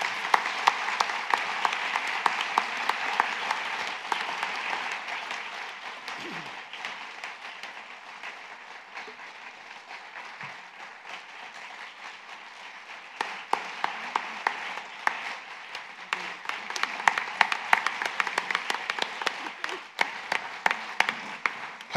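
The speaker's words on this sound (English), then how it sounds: "Can we give her a round of applause?" Audience applause for a 2019 Lifetime Achievement Award recipient at an interfaith cooperative's event, steady dense clapping from a crowd lasting about twenty seconds and swelling again toward the end, with no talking over it.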